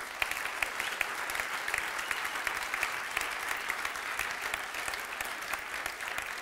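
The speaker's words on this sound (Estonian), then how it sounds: "Neile teeme eriti suure aplausi." Sustained, even applause from the audience at an architecture awards ceremony held in a theatre, heard at moderate distance as a steady crackle of many hands without letup.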